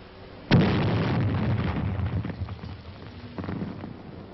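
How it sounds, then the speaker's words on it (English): A grenade blast in a dugout, from a 1944 army training film: one sudden loud explosion, then a long crackling, rumbling debris tail that slowly fades with scattered pops. "Toss in a grenade and let them divide it."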